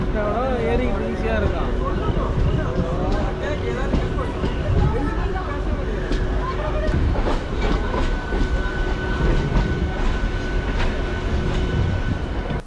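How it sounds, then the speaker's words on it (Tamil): A train pulls out of Chengalpattu station in Tamil Nadu on the route toward Arakkonam, with a loud, steady rumble and rail clatter, a sustained motor whine and voices murmuring on board throughout. "இப்போ பார்த்தீங்கன்னா செங்கல்பட்டுலேருந்து இப்போ ட்ரெயின் ஸ்டார்ட் ஆகிடுச்சிங்க."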